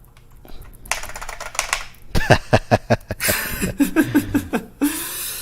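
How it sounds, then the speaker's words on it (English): Keys clatter on a clacky computer keyboard in quick uneven bursts, close and fairly loud, with brief pauses between flurries and faint breathing or a soft chuckle nearby. "you're banging on that keyboard"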